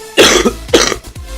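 Two harsh, chesty coughs close to the mic, a short gap between them, then a quieter trailing breath.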